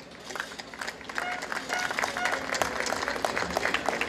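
An audience at a municipal swearing-in ceremony for a provincial councillor claps, a crowd's scattered, fairly loud applause that swells and continues steadily, with faint voices underneath.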